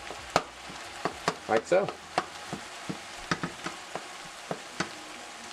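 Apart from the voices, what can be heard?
ground meat frying, broken up and turned in pan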